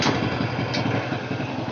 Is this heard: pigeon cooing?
no